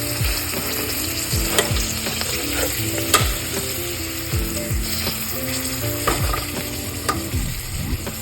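Taco meat searing in a hot pan as it is turned and shredded, a loud steady sizzle with repeated scraping and stirring strokes close up, no talk.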